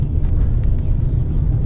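A Lada Granta with an automatic transmission pulls away on a winter road, its engine giving a close, steady low drone and rumble throughout with no voices over it.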